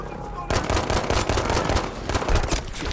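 Suppressing gunfire in the video game Battlefield V, sustained rapid machine-gun bursts that start abruptly after a brief quiet moment and then continue loud and dense, with a voice talking over the shooting.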